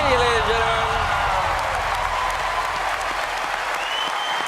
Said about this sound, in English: Round of applause for Heidi.